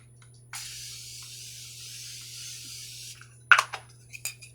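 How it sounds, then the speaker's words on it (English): One long steady hiss of a facial mist spray lasting a few seconds, followed by a few light clicks and taps. "I'm gonna go ahead and spray my face down with the Morphe setting mist."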